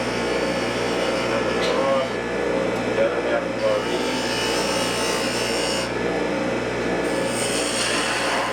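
A spindle gouge scrapes and rasps against wood spinning on a lathe while a goblet is turned, a steady rough cutting texture with slight variations in pressure, over a constant motor hum and background room noise.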